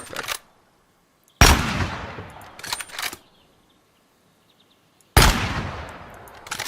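A rifle firing in Gunsmith Simulator, two loud, sharp shots a few seconds apart with long echoing tails, plus a couple of quieter mechanical clicks between them.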